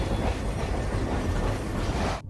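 Train moving along the rails, heard from inside a carriage as a loud, steady rumbling roar with a rattling clatter that cuts off abruptly near the end.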